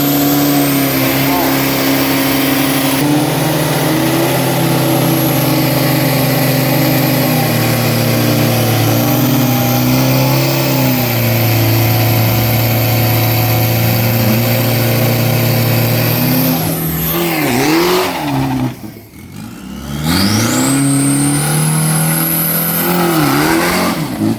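A 2500cc steel-bodied race car engine roars loud and close through a qualifying run at Na Kluea circuit, holding a sustained high drone with gear-change dips before a sharp drop near twenty seconds, then revving back up.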